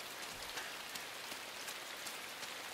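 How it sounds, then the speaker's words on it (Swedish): Rain falls steadily in a forest, a dense, even hiss of drops hitting leaves and ground, close and continuous with no voices. "Det regnar."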